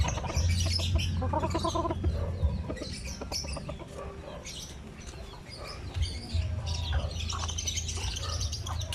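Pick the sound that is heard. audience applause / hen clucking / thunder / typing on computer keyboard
hen clucking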